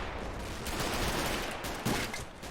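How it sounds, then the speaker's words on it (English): Gunfire and machine guns rattle in a Men of War: Assault Squad battle between US and German forces, a dense continuous fusillade of overlapping shots with no clear pauses. "I hear a lot of firing going on here all of a sudden"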